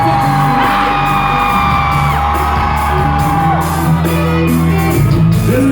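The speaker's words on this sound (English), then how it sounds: "Ladies out here in the Twin Cities, scream one time, let me know you're" A live rock concert crowd in the Twin Cities screams and yells loudly over a sustained band drone at the Varsity Theater, a continuous roar of many voices filling the space throughout.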